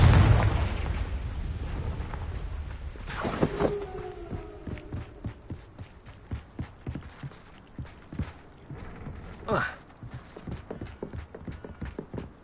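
A Confringo fire spell in Hogwarts Legacy erupts in a loud booming blast at the start, followed by a whooshing burst and a long run of rhythmic hoof-like footfalls and scattered pops, with no talk.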